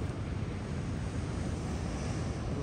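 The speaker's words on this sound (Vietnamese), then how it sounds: "Ồ, sóng lớn. Sóng đẹp quá" Big ocean waves surging at a Hawaiian fishing village shore, a continuous low roar of surf mixed with wind buffeting the microphone, loud and steady with no voices.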